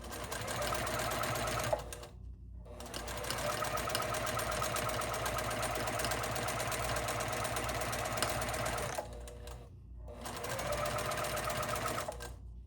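A home sewing machine runs steadily during free-motion quilting, a close, even mechanical whirr of rapid stitching that stops briefly twice before starting up again.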